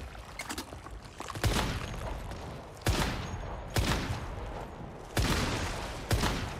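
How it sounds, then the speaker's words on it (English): Bursts of gunfire in the Once Human boss fight against the Mirage Monolith in Iron River, several heavy volleys landing roughly every second over a dense, continuous rumble of shooting, loud and close. "I'm just shooting anywhere I can at the moment"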